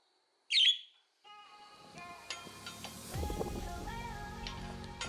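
A single bright bird chirp rings out near the start, then outdoor ambience fills in with more faint birdsong and a rising low rumble from a yard where a Chevrolet Impala is being worked on.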